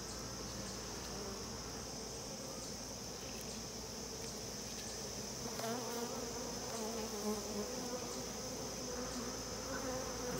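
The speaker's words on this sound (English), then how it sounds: "I have noticed that the bees are a little less kind and gentle these days." Steady, dense buzzing of many bees around an open mating nuc hive in late summer, continuous and close, with a high whine layered over a low hum and no talking.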